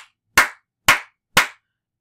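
Three loud, sharp hand claps evenly spaced about half a second apart with silence between them, made to imitate heavy rain.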